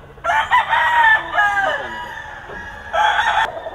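A Red Kelso gamefowl stag crows loudly and close by, one long strained crow followed by a shorter second burst, with no talk over it.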